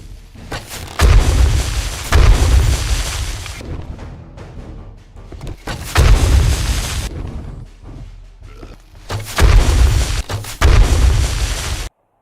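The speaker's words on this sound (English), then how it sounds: "The bombardment continued." Artillery bombardment explosions in the video game 7 Days to Die: loud, deep booms strike in pairs and clusters, with rumbling decay between them and no voices.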